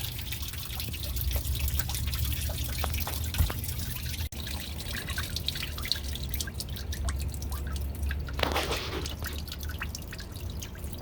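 Engine coolant drips and trickles steadily from a hose into a drain pan, close by, with scattered splashes over a constant low hum.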